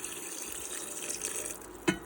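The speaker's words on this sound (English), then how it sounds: "We have all our ingredients in the slow cooker. Adding the water." Water is poured into a slow cooker already filled with chicken risotto ingredients, making a steady close splashing rush that ends with a short clunk.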